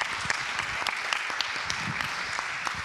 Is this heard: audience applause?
yes